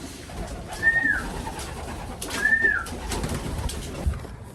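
Pigeons about to be fed give two distinct calls, a second or so apart, over a steady outdoor background hiss.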